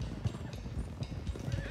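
Horses gallop in Red Dead Redemption 2, a steady drumming of hooves with an occasional whinny, close and fairly loud throughout the short stretch.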